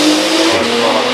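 A Porsche 911 GT3 Speedster driving at the Goodwood Festival of Speed, its engine loud and close in a brief continuous roar as it passes.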